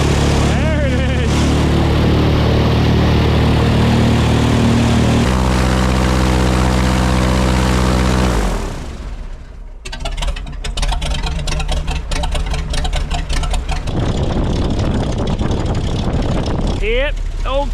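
Airboat engine with its propeller idles while warming up, a loud, steady low roar that shifts partway through into a rougher, fluttering drone with some background noise.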